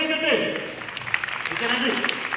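An audience claps steadily at the 2011 Oli Junior Stars stage show for young performers, a dense, continuous patter of many hands lasting throughout, with faint voices murmuring underneath.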